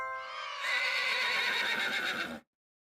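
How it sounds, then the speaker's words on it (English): A horse neighs once, a loud, close whinny that rises and trembles for about two seconds before stopping abruptly into silence. "Yes, it is a horse."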